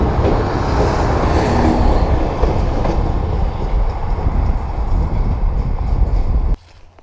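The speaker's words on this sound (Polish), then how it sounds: "I druga lokomotywa na podczepkę." A long train rumbles past close by with a heavy, continuous roar and faint clattering of wheels, loud and steady until it abruptly drops away near the end.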